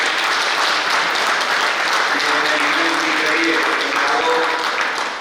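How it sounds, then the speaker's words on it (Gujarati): A live audience claps loudly at a Diwali D Yagna gathering, a dense, sustained wash of applause through the whole moment, with voices faintly audible beneath it. "પહેલા તો જોરદાર તાળીઓ છે બતાવી દઈએ આપણે."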